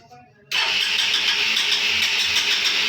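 A motorcycle with a carburetor fault that starts and then stalls; after a quiet moment the engine catches abruptly and runs loud and steady, close by, with no speech.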